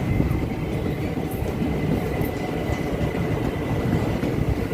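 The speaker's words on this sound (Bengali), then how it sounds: "বেরিয়ে গেল ট্রেনটা।" A train pulls out of a station platform, a loud, continuous rumble of rolling wagons close by, steady throughout with no voices.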